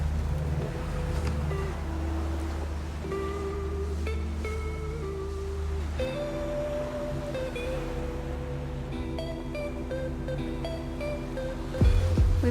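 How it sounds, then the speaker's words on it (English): Strong wind of about 25 knots and ocean waves aboard a sailboat at sea, a steady rushing roar with low rumble and tonal hums from the boat, continuous and fairly loud. "We've got 25 knots of wind at the moment."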